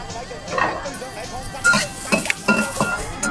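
Ginger and scallions stir-fried in a little hot oil in a wok, with a steady sizzle under scraping and clinking of a spatula against the pan, close and moderately loud, with bursts of louder stirring.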